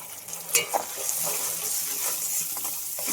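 Ground spices, coriander powder, salt and turmeric, fry and are stirred in a pan with a loud, close, watery sizzle and a few clattering scrapes near the start.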